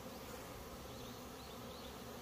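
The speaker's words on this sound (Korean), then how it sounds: "벌통 입구에 있는 어리고 또는 화분을 채취오는 이 벌들을 지킬 것이냐" A steady, dense buzz of many honeybees gathered at a hive entrance, with young foragers bringing in pollen, holding close and even throughout without any voices.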